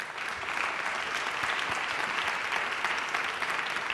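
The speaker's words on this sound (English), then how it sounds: "a big round of applause for all our speakers here" An audience at a round-table panel on sponsorship and women's sports applauds its speakers, a steady, moderately loud wash of clapping from a medium-sized room that continues evenly without pause.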